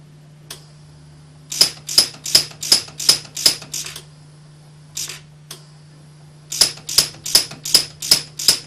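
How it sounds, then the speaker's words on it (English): An Orion 150i welder set to zero delay fires rapid welds: sharp, evenly spaced clicks in two quick bursts of about six to seven, a few lone clicks between, over a steady low electrical hum. "So you can see you're getting maybe 4 to 5 welds a second at that point, just by optimizing the speed of"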